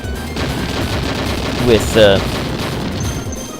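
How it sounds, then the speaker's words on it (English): Rapid shots fire in a manic shoot 'em up video game, a dense, continuous stream of electronic gunfire with a few brighter blasts near the middle and no break in the barrage. "Ooh, look at all those shots."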